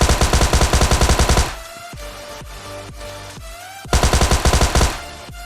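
Automatic rifle fire in the mobile battle royale game PUBG Lite: two loud, rapid bursts of gunfire at the start and end, with scattered single shots and echoing game ambience between them.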